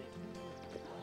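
A trail horse moves with soft clip-clop hoof sounds and a faint snort, heard briefly and fairly quietly amid ambient outdoor noise.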